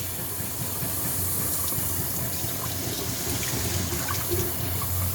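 Water from a kitchen tap runs steadily over minced pork held in a container, giving a constant, close splashing hiss that continues without a break, with no talking.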